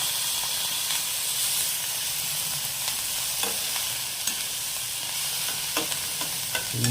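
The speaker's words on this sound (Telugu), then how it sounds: "ఈ ఆకు వాటర్ని తీసి ఫ్రై కావాలి మంచిగా." Ponnaganti leaves fry in a pan with a loud, continuous hiss and sizzle, broken by occasional scraping stirs and small crackles, close up and with no voices.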